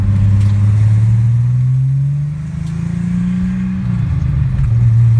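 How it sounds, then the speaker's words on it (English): Loud cabin drone inside a BMW E30 325iX turbo with no carpet and the muffler exiting right under the passenger seat, engine pitch rising steadily, dipping briefly as the throttle lifts, then picking back up, booming and close. "this car is not quiet. There's no carpet in it at all, and the muffler dumps right below the passenger seat"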